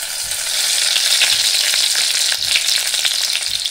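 Garlic and onion frying in a pan for a Konkan banana flower bhaji, a loud dense sizzle spread evenly throughout with a few faint low knocks, near and with no voices.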